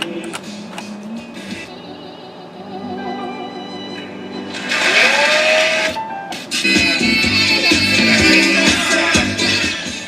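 The original AM/FM radio of a 1976 Ford F250 seeks and scans across the dial, with static hiss, sliding tones and snatches of station audio popping in and out, loud and close.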